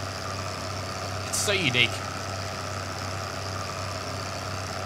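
A tractor engine idles in Farming Simulator 2013, a steady low mechanical drone with a constant hum running throughout while a person talks briefly over it.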